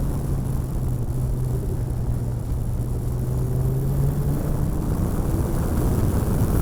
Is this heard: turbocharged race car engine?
yes